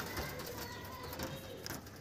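Pigeons in a loft, with soft cooing and faint flutters and shuffling, close and continuous over a busy background hiss, no voices.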